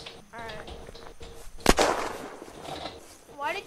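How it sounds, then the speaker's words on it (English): A single sharp gunshot cracks out loud and close in a PvP video game, standing out briefly amid ongoing low background voices and game noise. "Why did you shoot?"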